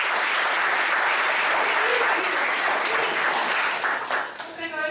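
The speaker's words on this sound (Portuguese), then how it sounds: "Dá um aplauso, Senhor." A church congregation breaks into loud sustained applause, dense clapping filling the room steadily before thinning out toward the end.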